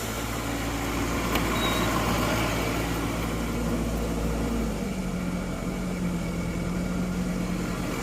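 Idling engine of a New Holland CR920 combine at harvest, a steady low rumble whose pitch drops partway through as the revs come down, continuous and close.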